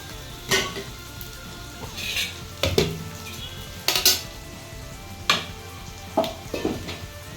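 Onions sautéing in a pan for chicken gravy being made in a pressure cooker, heard as a low steady sizzle broken by several sharp clinks and scrapes of a spoon against the pan.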